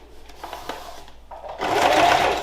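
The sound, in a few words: sewing machine stitching a seam on oilcloth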